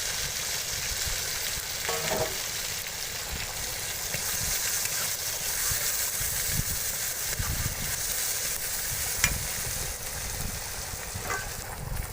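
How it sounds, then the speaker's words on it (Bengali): Dudh kochu greens fry in oil with crushed garlic tempering in a village kitchen, giving a steady close sizzle with occasional stirring scrapes throughout. "এখন রসুন ফোড়ন দিয়ে শাকটাকে ভাজা করা হচ্ছে"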